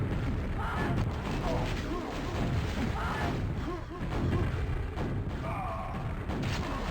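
Rocket launcher blasts and explosions from a QuakeWorld duel fire in a dense, constant barrage of booms and thuds, with game mechanisms clanking and a voice talking over the action.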